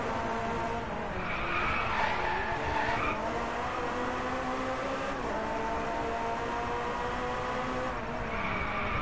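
Race car skidding and sliding with the handbrake in the racing video game Driveclub, a steady loud engine drone with screeching tire squeal throughout, rising in sharper bursts near the start and end.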